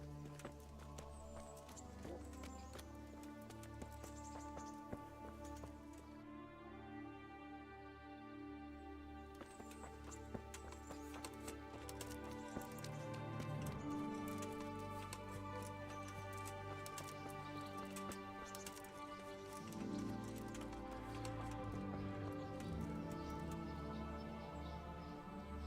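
Horse hooves clip-clop in the medieval video game Kingdom Come: Deliverance, a steady rhythmic patter running through about 26 seconds of layered music, moderately loud and continuous.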